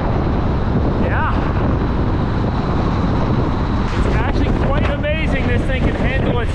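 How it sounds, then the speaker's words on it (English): Strong wind gusts ahead of a dust storm buffet the microphone in a constant loud rush across a parking lot, with a brief high whistle and some faint chirping sounds near the end. "I think there's definitely a dust storm coming"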